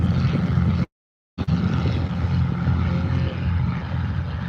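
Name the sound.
Yak-12 tow plane aircraft engine at gliding airfield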